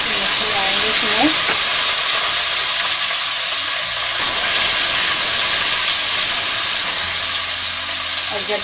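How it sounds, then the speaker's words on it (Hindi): Fish frying in a large kadhai of hot oil, a loud, dense sizzle and hiss that surges as the pieces go in, then holds steady and close with no talk over it. "अभी मैं मछली डाल रहा हूँ करके। कढ़ाई बड़ा है तो काफी मछली आएंगे इसमें।"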